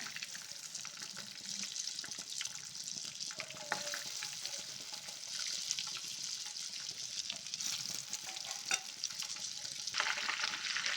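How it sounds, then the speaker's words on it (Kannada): Chicken pieces frying in hot oil, a steady broad sizzle running throughout with crackling pops and occasional light clinks, fairly close and continuous with no talking. "ನಾನು ಫ್ರೈ ಮಾಡ್ಕೊಂಡು ಬರ್ತೀನಿ ಎಲ್ಲನೂ"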